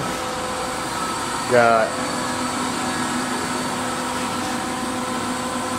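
A Haas VF6/50 CNC vertical machining center hums steadily with a constant mechanical whir and fan-like drone, with one brief rising whine early on and a word spoken over it.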